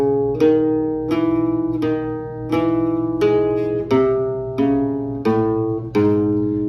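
A flamenco guitar soleá falseta phrase: eight strongly plucked, ringing notes at a steady pace, each decaying before the next, played alone.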